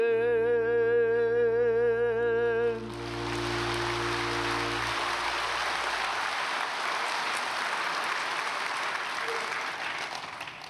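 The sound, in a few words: audience applause in church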